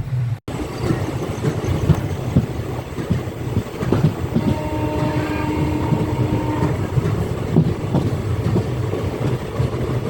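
Puri–Santragachi special passenger train running on the line, a steady rolling rumble with rail noise and faint tonal squeals, continuous and near throughout.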